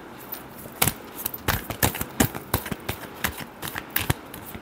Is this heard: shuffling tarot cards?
yes